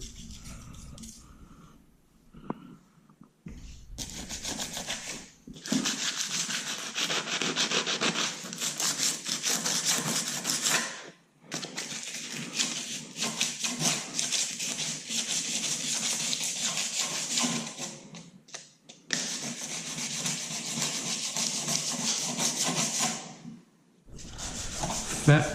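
Old grip residue being scraped and rubbed off a motorcycle handlebar in a garage, a steady rasping, sawing-like scrape close by in long continuous runs broken by short pauses.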